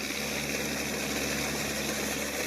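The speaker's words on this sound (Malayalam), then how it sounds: "അവിടെ നിന്ന് വരുന്ന മെഷീൻ്റെ ഭയങ്കര സൗണ്ടാണ്" A JCB excavator's diesel engine runs nearby, producing a steady, loud, unbroken rumbling drone that holds an even level throughout, with no voices.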